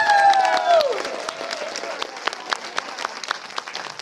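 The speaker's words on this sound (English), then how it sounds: "Let's give them a humongous hand of applause!" An audience at a film premiere gives the cast and crew of Trailer Park Queen a hearty round of applause, with an excited whoop at the start before the clapping carries on steadily.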